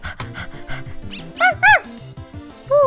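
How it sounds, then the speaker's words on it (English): Lesser Dog from the video game Undertale barking excitedly in a quick run of close, loud yips and short bow-wow barks, with no talking over it. "Lesser Dog gets excited."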